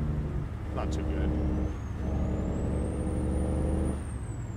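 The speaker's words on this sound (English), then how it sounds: "The J brakes are not too good on this this truck." A 2022 Volvo VNR truck in American Truck Simulator runs its jake brake, a loud, steady engine drone with a rising whine across the whole stretch.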